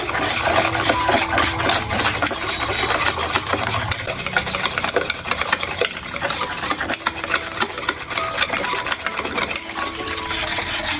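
Refined cooking oil being whisked hard for homemade flour biscuit dough, a loud, steady, fast scraping and swishing that runs continuously without pause.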